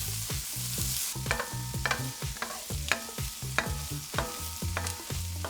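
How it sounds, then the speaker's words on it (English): Garlic and frozen vegetables frying in a pan for fried rice, with a constant crackling sizzle broken by quick rhythmic stirring and tossing strokes, close and loud. "Cook for 30 seconds to a minute, and then add the garlic. Cook for another minute or so."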